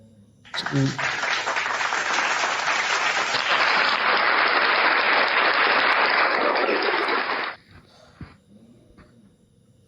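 Audience at an interfaith debate breaking into loud, dense applause that starts abruptly, holds steady for about seven seconds, then cuts off into near quiet with a few stray claps.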